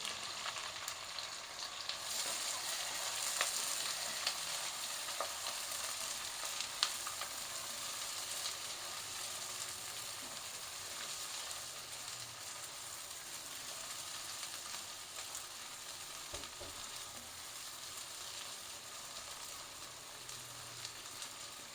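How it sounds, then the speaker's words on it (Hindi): Steady crackling sizzle of green chillies frying in hot oil for pickle, close and continuous, with occasional soft stirring scrapes. "अब थोड़ी सी मिर्ची को फ्राई करेंगे"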